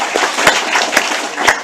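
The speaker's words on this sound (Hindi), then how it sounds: "वेरी गुड, तालियां दें बच्चों।" Children clap together at a religious storytelling gathering, a steady patter of many small hands with a few louder accented claps, close and fairly loud.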